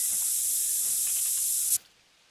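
A scent spray is released by a hunter stalking deer, giving one loud continuous hiss for nearly two seconds before it stops sharply into quiet.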